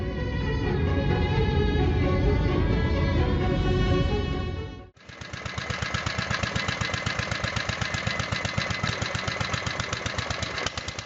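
Small four-stroke engine running hard and fast, a dense steady roar that cuts out briefly, then resumes as a rapid, even chain of firing pulses, loud and close.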